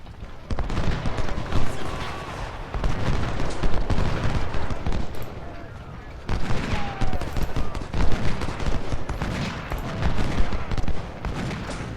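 Civil War cannon and musket fire from Ultimate General: Civil War crackles in dense, overlapping volleys with heavy booms, loud and continuous in bursts separated by a brief lull, with no talking over it.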